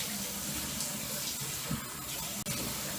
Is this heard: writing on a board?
no